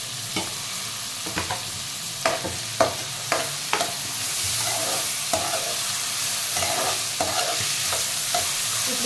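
Slit green chillies fry with onions in a pan, a spatula scraping and tapping in a quick irregular rhythm over a steady hissing sizzle that grows fuller partway through, with no talking.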